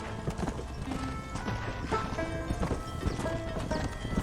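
Horse hooves clip-clop at a quick, steady pace in Red Dead Redemption, close and prominent, with an occasional whinny over a busy game background.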